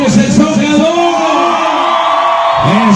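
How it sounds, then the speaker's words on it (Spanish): A large crowd at an outdoor sonidero dance on a public esplanade in Ecatepec, Mexico, shouts and cheers in a loud, sustained roar of whoops and yells that stays close and continuous throughout. "Grito de toda la gente que ya rebasamos el Zócalo."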